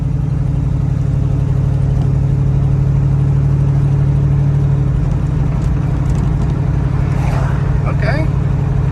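A 1986 Oldsmobile Cutlass lowrider rolls down the street with a steady, loud low engine drone and rumble from inside the car, holding a constant pace throughout.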